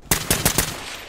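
Four rapid, loud gunshots crack out in quick succession from a rifle in the tactical shooter Ready or Not, evenly spaced and close, each with a short ringing tail that fades after the last shot.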